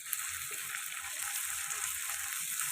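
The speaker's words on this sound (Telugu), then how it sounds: "ఇది కూడా పచ్చివాసన పోయేదాకా ఫ్రై చేసుకుందాం" Ginger garlic paste frying with onions in a pan for an Andhra egg pulusu, giving a steady, dense sizzle with soft stirring scrapes, close and continuous with no talk.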